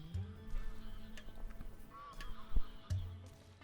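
Geese grazing with ducks on wide meadows in Estonia honk repeatedly as they are flushed by a white-tailed eagle, a loose chorus of nasal calls at moderate distance with a few louder, closer honks.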